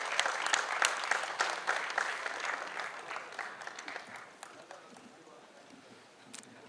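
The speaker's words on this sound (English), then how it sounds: "A big round of applause." Audience applause at a corporate award ceremony after prize money is handed to a winning team, a burst of clapping that is strongest at first and then gradually thins and fades.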